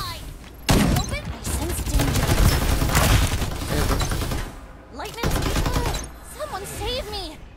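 Rapid bursts of AK rifle fire in the Farlight 84 game ring out loud and dense for several seconds, pausing briefly before another burst, with a voice talking over parts of it.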